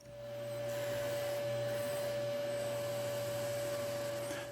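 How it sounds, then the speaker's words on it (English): A mini disc sander trimming excess styrene plastic, a steady close motor whine with a constant tonal hum and a broadband grinding hiss, running unbroken throughout. "I used my mini disc sander to trim the excess of styrene"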